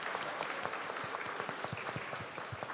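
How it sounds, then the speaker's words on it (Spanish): Congregation applauding at a children's mass, continuous close clapping from many hands, fairly quiet and steady throughout. "un aplauso por el hito"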